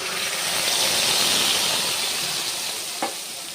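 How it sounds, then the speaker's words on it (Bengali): Mustard and poppy seed paste fries in hot oil in a wok, giving a loud, even hiss and sizzle close up that eases slightly toward the end, with one brief clack of a utensil. "এর জন্য কড়াতে তেল দিয়েছি, তেলটা গরম হয়ে গেছে। এর মধ্যে দিয়ে দেবো সর্ষে পোস্ত বাটা"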